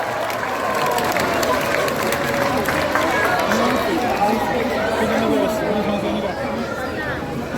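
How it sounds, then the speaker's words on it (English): A zoo crowd at a sea lion show claps and chatters in a broad, continuous wash of applause mixed with excited voices, fairly loud and sustained throughout. "Why don't we give Murphy and his trainer Jake a big round of applause and welcome"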